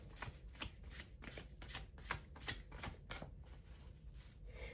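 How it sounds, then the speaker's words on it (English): Large oracle cards are shuffled off to one side, a fast sequence of about a dozen crisp riffling bursts in a steady rhythm, faint and somewhat distant, with no talk. "These are a little big, so I'm going to shuffle them off camera"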